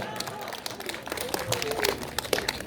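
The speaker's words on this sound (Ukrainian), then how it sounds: "Ваші оплески, шановні малинчани." A crowd claps after a singer is introduced at an outdoor town celebration in Ukraine, scattered claps with some voices and a faint tone mixed in.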